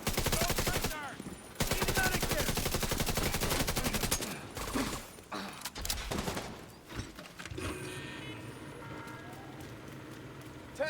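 Gunfire in the video game The Division 2, with dense, rapid automatic bursts, loud and close, broken by short pauses, then scattered shots and a firefight that thins out toward the end.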